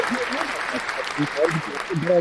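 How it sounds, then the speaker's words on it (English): A small group claps in a round of applause after a story is told, with voices talking and reacting over the clapping throughout. "That's a great a round of applause for that story."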